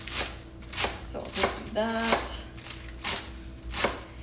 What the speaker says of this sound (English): Then I chop this way and I chop very close so they're it's more like shredded lettuce.